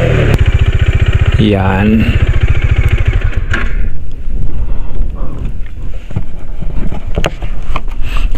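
A motorcycle rides along a mountain road on Mount Tapao in Ilocos Sur, its engine a steady drone buffeted by loud wind noise while a rider talks over it in the opening seconds.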